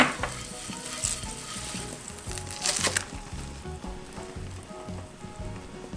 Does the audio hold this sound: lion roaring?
no